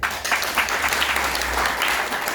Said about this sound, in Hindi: मैं जोरदार ताली बजाता हूं।